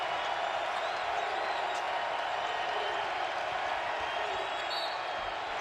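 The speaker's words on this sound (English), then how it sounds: "and here comes the crowd" A college basketball crowd roars in the Arkansas arena during a Florida–Arkansas game, a broad, sustained wall of distant cheering and clapping at steady volume, with a commentator's voice faintly underneath.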